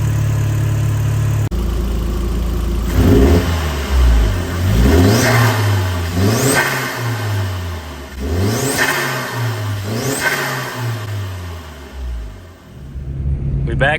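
A 337 GTI car engine idles, then is revved hard about five times in a rhythmic series of rising and falling surges, loud and close, settling back toward idle at the end.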